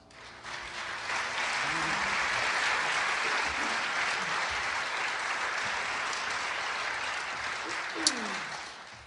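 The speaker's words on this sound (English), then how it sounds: "While you have your hands in the applauding mode" Audience at a jazz concert applauds steadily for about nine seconds, a dense even clatter of clapping that swells quickly and holds, with a faint crowd murmur underneath and one sharp spike near the end.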